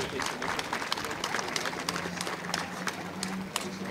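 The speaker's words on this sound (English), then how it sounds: "just give Mayor Schertzer a round of applause" Applause from an outdoor crowd at a Christmas charity event with Harley riders, steady clapping mixed with murmuring and a low engine hum in the background.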